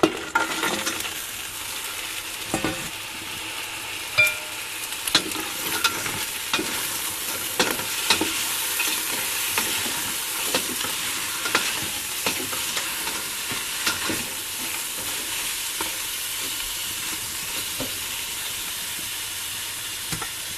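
Crab (alimasag) stirred and sizzling in a pan for Filipino-style ginataang alimasag, with steady frying hiss and repeated scraping stirs throughout, close and without speech.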